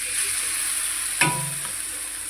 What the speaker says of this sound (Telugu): కొద్దిగా ఆయిల్ పోసుకొని అట్ట వేసుకుందామండి.